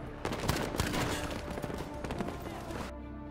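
Breda M1935 PG rifle from Battlefield 5 firing on semi-auto, a string of sharp close gunshots in a quick, uneven rhythm lasting about three seconds, then cutting off abruptly.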